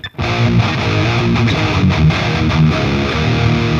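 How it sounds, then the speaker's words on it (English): Heavy distorted seven-string electric guitar chugging low riffs through an amp, loud and continuous with no voices. "So this would be the sound of the guitar just playing with the amp."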